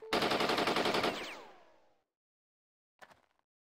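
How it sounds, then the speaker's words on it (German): In the Jagged Alliance video game, enemies fire a loud automatic burst that rattles on for about a second, then rings and fades away into silence, before a short, quieter shot cracks out near the end. "Die schießen alle auf Trevor dort."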